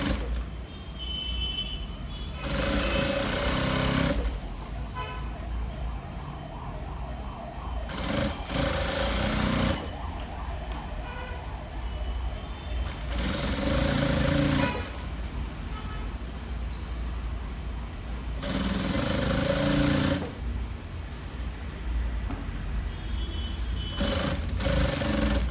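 Sewing machine stitching a cross-cut blouse, running in several loud bursts of rapid mechanical whirring separated by quieter pauses with a low background hum and faint room noise.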